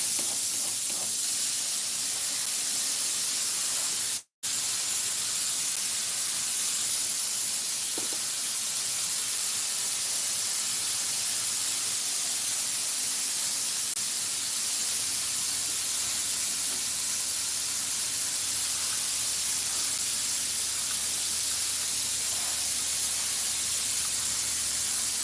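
Spray gun hissing steadily while a 1964 Cadillac dash is being recovered, a continuous broadband spray running the full length alone, broken once by a brief cutoff before resuming.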